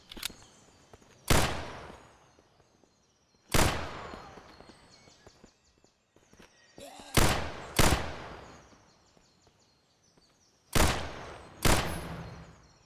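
Gunshots from the zombie survival video game VEIN, fired as sharp, loud single reports with decaying tails, spaced out singly and in close pairs across the clip over a quiet background.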